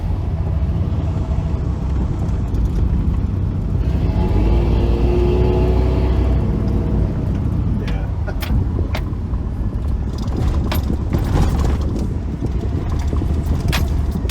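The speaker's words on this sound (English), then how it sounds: "we're gonna have to drive around for quite a bit to burn the rest of it off" Chevrolet Silverado pickup truck driven around after a Seafoam treatment, heard from inside as a continuous low engine and road rumble with a brief rise in pitch midway, sharp ticks later on, and occasional voices.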